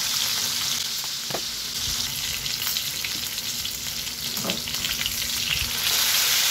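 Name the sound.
frying tuna meat in a pan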